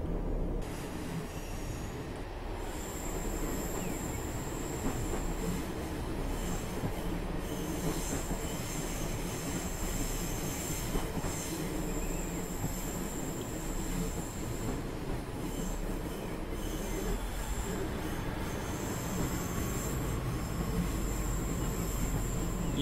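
A Class 150 diesel multiple unit runs along the West Coast Main Line over Shap in Train Simulator 2015, a constant engine drone and rolling rumble with high wheel squeal and faint clicking rail joints, steady and close.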